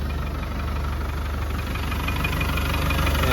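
A 1995 Land Rover Defender 110 with a 200Tdi diesel engine idles steadily and smoothly, a close, constant low rumble with an even knock running throughout and no voices.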